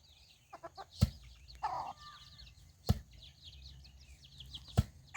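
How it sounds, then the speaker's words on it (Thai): Free-range bantam chickens clucking and calling close by, with short bursts of cackling and a few sharp knocking thumps spaced through the scene. "เบิ่งลักษณะไก่เนี่ยจะเป็นแบบไก่แจ้นะจะมักเลี้ยงเป็นไก่แจ้ไก่ลาดแต่ว่า เลี้ยงตามธรรมชาติ"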